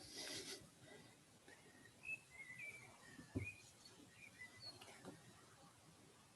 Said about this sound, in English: I literally hear birds singing in the background.